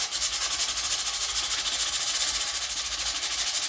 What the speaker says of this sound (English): What you're gonna do is sand everything on the ramp just to agitate it